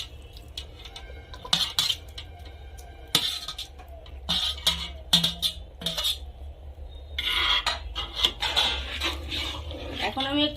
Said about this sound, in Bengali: এখন আমি একটু এভাবে নেড়ে নেব।